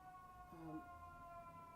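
A faint emergency siren wails somewhere outside, a steady distant tone that sits low under quiet room noise.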